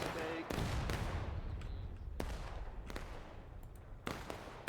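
Artillery booming across a Civil War battle game, several sharp cannon blasts with rolling rumbles, some near and loud, others more distant, over continuous battlefield noise.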